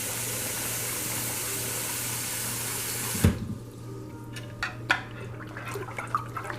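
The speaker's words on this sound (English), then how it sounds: "Hot water." Hot water runs from a tap into a container for melting wax while making lanolin emulsifying cubes, a steady broadband rush that stops midway, followed by a few faint clinks and drips.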